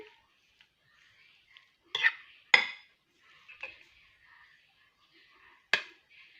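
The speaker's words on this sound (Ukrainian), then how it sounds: "А зараз я перемішаю це все, що я додала до вермішельки нашої." Ingredients are mixed into a vermicelli casserole in a bowl, with a few scattered utensil clinks and scrapes, sparse and close, separated by near silence.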